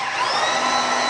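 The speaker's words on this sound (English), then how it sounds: "what you're going to need is actually a heavy-duty type of a drill" A heavy-duty drill spins a dispersion blade through thick hot pipe coating in a pail, giving a steady, loud, dense whirring drone with no break and no voices.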